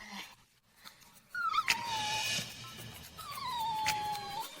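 A dog in pain with a fish bone stuck in its teeth whimpers and whines in long, high, wavering cries, with brief pauses between, close by in a quiet room.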